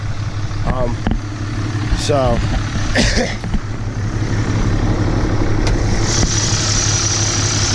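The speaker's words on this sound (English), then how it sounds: "Truck starts right up." Cummins diesel race truck engine idling steadily close by, a continuous low rumble running throughout while someone speaks briefly over it.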